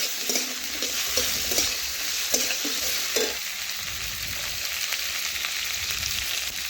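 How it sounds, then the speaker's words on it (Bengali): Chopped ridge gourd stirred in hot oil with green chilli and ginger-cumin paste, a steady close sizzle and frying hiss with intermittent scraping of the spoon against the pan during the first few seconds, no voices. "এখন ভালোভাবে ঝিঙের সাথে মিশিয়ে নেব।"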